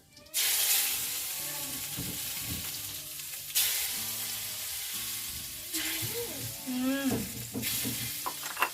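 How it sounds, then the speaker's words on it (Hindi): Garlic drops into hot oil already crackling with cumin and jakhiya seeds in a home kitchen, giving a steady close sizzle with stirring scrapes and spits, and faint voice-like tones underneath. "जीरा और जख्या चटकने लग गया है तो इसमें डालूंगी लहसुन।"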